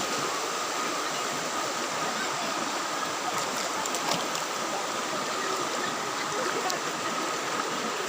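Spring water flowing in a stream, a loud continuous broadband rush close by, steady throughout with only faint hints of other sounds.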